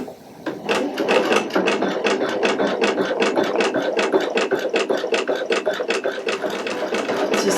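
A Pfaff Creative Icon 2 sewing machine stitches fringe flowers, giving a fast, even run of close mechanical clicks that starts after a brief pause and keeps a steady rhythm to the end.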